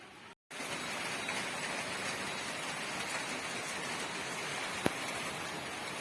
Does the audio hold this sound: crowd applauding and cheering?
no